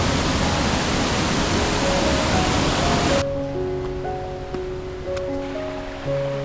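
A forest stream rushes in a steady, loud broadband wash for about three seconds near Vattavada in the Munnar hills, then cuts abruptly to softer background with sustained musical tones.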